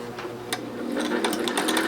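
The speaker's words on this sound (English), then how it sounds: "I am going to start the machine." A vintage Singer 600 Touch N Sew sewing machine runs up to speed, its fast, close mechanical whir carrying rhythmic clicking and rattling from the needle mechanism, growing slightly louder as it continues.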